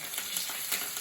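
Butter tadka is poured into dhaba-style mash dal, giving a steady, close, crackling sizzle with small pulsing bursts throughout.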